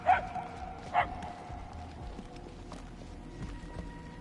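A dog in a video game barks twice in quick succession near the start, fairly clear and mid-distance, then quieter ambient game noise continues with faint tonal hums.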